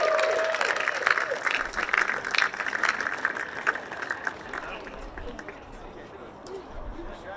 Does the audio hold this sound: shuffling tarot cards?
no